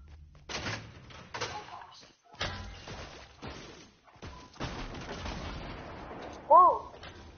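Grenade launches and blasts in a squad shooter game, several heavy thumps and crashes spread across the stretch, with game noise and a sharp tonal blip near the end.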